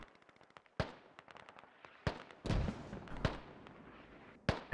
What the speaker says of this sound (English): Good mortar.